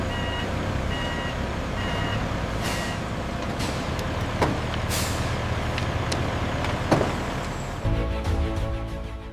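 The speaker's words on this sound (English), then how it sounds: "The loaded trucks exit the factory gates." Loaded trucks pull out of factory gates with a continuous heavy engine rumble, sharp hissing air-brake bursts and intermittent reversing beeps, fairly close with no talking.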